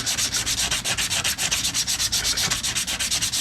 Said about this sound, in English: I am sanding in multiple directions